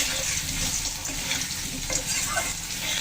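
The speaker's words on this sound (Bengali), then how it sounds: "আলুগুলো একটু হালকা করে ভেজে নেব।" Cut potatoes frying in hot oil with dried red chilli and cumin, a dense close sizzle with stirring scrapes throughout, loud and without talk.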